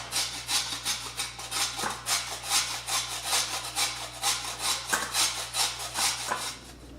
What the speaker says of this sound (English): the first step is to actually grate the panela so it'll be easier to melt in the filling